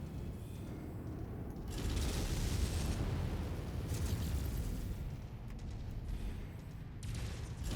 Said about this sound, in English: We'll just keep putting missiles on until we run out of missiles.